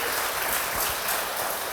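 A church congregation applauds during a Spanish-language sermon, producing a dense, continuous patter of many hands, bright and even, with no break across the short stretch.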